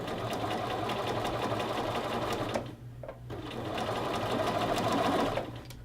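A sewing machine stitches the collar band of a men's shirt to its facing, running in a steady close whir that dips briefly partway through and then resumes.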